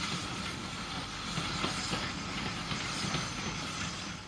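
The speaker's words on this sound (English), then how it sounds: "A train for Horsham headed south out of Cranley." A 2-6-2 tank steam locomotive, number 41294, hauls a branch-line train south out of Cranleigh on a former London, Brighton and South Coast route. It gives a steady, busy rumble with a soft steam hiss and faint rail clatter throughout.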